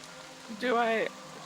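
Steady rain falls as a soft, continuous hiss throughout, with a brief voiced sound cutting in over it near the middle.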